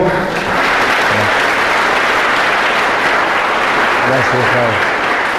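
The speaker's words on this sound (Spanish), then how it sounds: "Entonces le doy un fuerte aplauso" Loud, sustained applause from an audience at a church gathering in Madrid fills the clip, with a voice speaking briefly over it.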